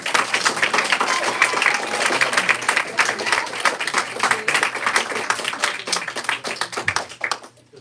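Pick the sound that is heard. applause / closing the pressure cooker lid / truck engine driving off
applause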